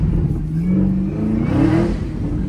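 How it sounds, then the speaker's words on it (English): A Chevrolet Camaro ZL1 1LE revs during a power slide on a rainy late-night drive, its engine pitch climbing and surging loudly and close, with no voices over it. "let me spin this thing back for y'all. Power slide is all I'm doing"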